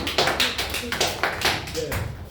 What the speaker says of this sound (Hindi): एक बार जोरदार तालियां हो जाएं आपके